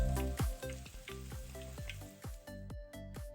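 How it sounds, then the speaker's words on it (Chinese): Battered sweet potato pieces deep-fry in a pot of hot oil, giving a quiet, continuous sizzle broken by a series of regular soft knocks, with no talking. "锅里的油沥干净后，以相同步骤油炸至全部完成。"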